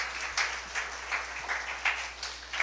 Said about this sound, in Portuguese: Salva de palmas para esses homens de Deus.